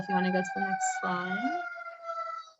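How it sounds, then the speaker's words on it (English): An ambulance siren wails steadily outside a window, its rising and falling tone fairly faint under a person speaking nearby. "if you can hear an ambulance outside of my window"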